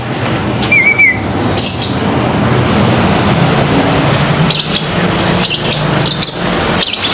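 African lovebirds chirp in short, scattered bursts at feeding time, with brief high calls spaced through a steady background noise.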